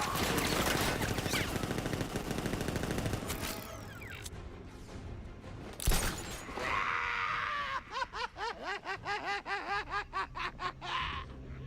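Militia ambush gunfire in Batman Arkham Knight, dense bursts of shots and explosions at first, then a pause and a rhythmic run of repeated pulsing blasts, loud and close with no talk.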